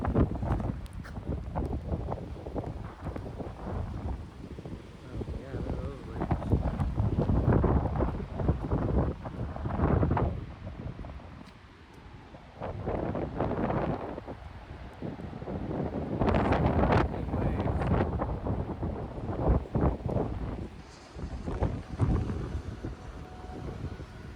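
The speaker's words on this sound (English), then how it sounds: "It was extremely windy and some big waves out." Strong wind buffets the microphone along a coastline with big waves, a loud, continuous roar that swells and eases in gusts over the whole stretch, with no voices.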